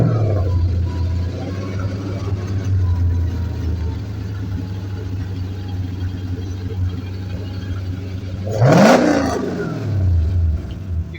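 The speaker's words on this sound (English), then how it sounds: "once you rev it up to any RPM that you want" Toyota 1UZ V8 engine in a DX spin drift car idling with a steady low rumble, then revving sharply up and falling back near the end, loud and close.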